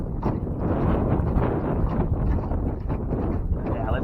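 Wind buffets the microphone on the water from a jon boat during a fishing outing, a loud, continuous low rumble with gusty fluctuations throughout and no clear speech.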